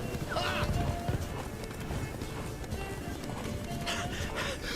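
Hooves clip-clopping at a fast, steady gallop of a horse in a video game, with a snort or whinny and some voices mixed in, close and continuous.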